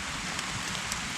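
Steady rain falls outdoors in Germany, a dense even hiss of drops with a few sharper taps, close and unbroken, no voices.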